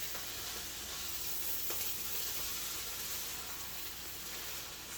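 Kale being stirred in a hot pan, giving a soft, steady sizzle and hiss of frying greens, faint and continuous, with a couple of light scraping stirs and no voices.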